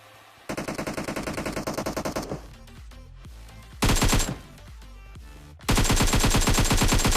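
M416 assault rifle fire in PUBG Mobile: loud, rapid automatic bursts with a long sustained spray at the start, a quieter stretch of scattered shots, then two more dense, intense bursts of close gunfire.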